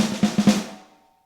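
A Roland electronic drum snare struck on the edge through its drum module, three quick close hits followed by a ringing tail that fades over about half a second.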